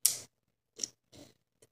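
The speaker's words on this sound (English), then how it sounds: "It's got scissors." Small multitool scissors from a police duty belt snip open and shut, several short crisp metallic clicks spaced about half a second apart, close and fairly quiet with silence between.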